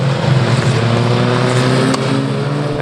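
Historic Formula Ford 2000 race cars sweep past at Oulton Park during a 2015 race round, their engines a loud, continuous droning roar with no break and no voices.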